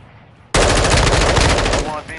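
Sustained rapid automatic gunfire in a video game erupts abruptly and stays loud and dense for about a second and a half before tapering off, with a faint voice briefly audible.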